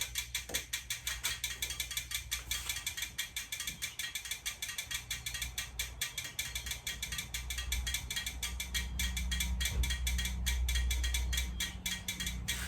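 A 1983 Yamaha XJ900 Seca motorcycle engine idles steadily close by on its first start in six years, a rapid mechanical ticking and clatter over a low exhaust drone that swells slightly louder toward the end.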